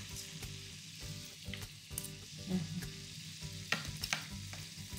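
A beef rump steak sizzles steadily in a frying pan with rosemary, a loud close hiss and crackle of frying joined by the occasional clink and scrape of stirring, with no talk over it.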